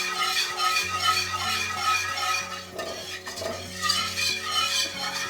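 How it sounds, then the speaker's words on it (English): A whisk stirs ceremonial cacao with water in a vessel, giving a continuous soft swishing with light clinks, under a steady tonal background hum, no voices. "Then we take our whisk. We whisk in our intentions."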